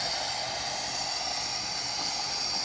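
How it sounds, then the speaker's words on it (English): Steam blower on an Aster pannier tank model locomotive hissing steadily and fairly loudly, a constant broad hiss with no break or talk. "The blower is sounding a lot cleaner."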